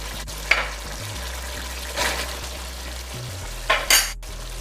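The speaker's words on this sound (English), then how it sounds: "I'm going to add the dal to the meat." Lamb meat cooking in a pan as dal is stirred in, giving a steady low sizzle with a few soft stirring and utensil scrapes at intervals.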